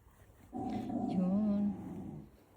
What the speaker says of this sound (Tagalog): Pasensya nyo na yung aking aso. Nakakita ng squirrel sa labas.